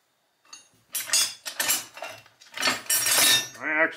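A crescent wrench clinks and scrapes metallically against a fitting during parking brake and shift lever fabrication, in several close bursts of ringing metal contact.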